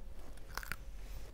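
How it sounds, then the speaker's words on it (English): A crunchy carrot stick is bitten with two sharp, close crunches in quick succession against a quiet background, with no talking. "Have a nice crunchy carrot stick instead."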